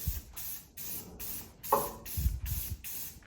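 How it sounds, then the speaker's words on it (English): Repeated short bursts of hissing spray paint from an aerosol can, about six quick pulses in a row, close by with faint handling noise, painting a car engine bay. "Spray some color."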